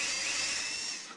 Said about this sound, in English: Drill a hole on the top of the tower for the spire.